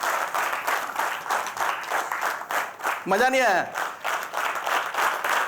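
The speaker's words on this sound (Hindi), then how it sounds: "ताली ऐसी लग रही है जैसे 2 साल पुराने फटाके फूट रहे हैं।" An audience claps throughout, a steady loud patter of many hands at a talk event, while someone speaks over it and a brief rising tonal sweep cuts through midway.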